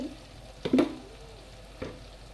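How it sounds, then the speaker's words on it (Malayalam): Chili, coriander and turmeric powders being stirred into onion, ginger and green chili in a pan for a fish curry, with a soft sizzle and a couple of brief scraping stir strokes, fairly quiet. "ഈ പൊടികളെല്ലാം കൂടി ചേർത്ത് നല്ലതുപോലെ നമുക്ക് ഇതിലേക്ക് വഴറ്റി ചേർത്തെടുക്കണം"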